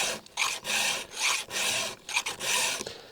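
A hand file rasps across the teeth of a chainsaw chain during sharpening, giving repeated close, light strokes in a steady back-and-forth rhythm with short gaps between passes.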